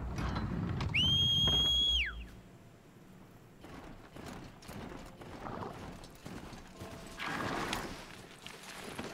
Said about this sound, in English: This is my horse.